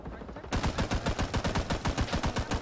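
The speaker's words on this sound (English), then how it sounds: "We are throwing bullets downrange and we're not getting any kills." Rapid automatic gunfire from the Vietnam-era shooter game Rising Storm 2: Vietnam, loud sustained bursts of evenly spaced shots rattling close by after a brief quieter lead-in, with no talk.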